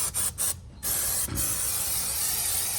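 Short bursts of chain cleaner spray hiss onto the chain of a 2023 Kawasaki ZX10R motorcycle, close and fairly soft, separated by brief pauses and a faint mechanical click.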